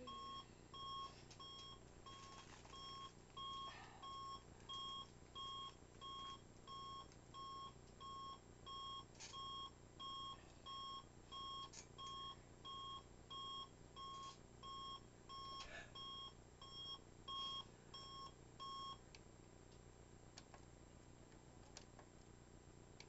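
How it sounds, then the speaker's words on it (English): An alarm clock beeps in repeated short bursts at a steady rhythm for most of the stretch, fairly clear against a quiet background, then stops near the end. "or her alarm just went off."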